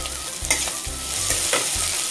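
Chopped tomato frying in a pan with ginger-garlic paste for a Bengali-style egg tadka, with steady sizzling and rhythmic scraping stirs of a spoon, close and continuous, no talk.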